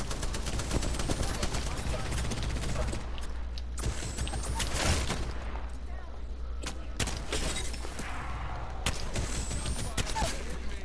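Rapid bursts of gunfire from an Apex Legends match, loud and dense with repeated volleys and sharp cracks throughout, mixed with game effects and faint voices.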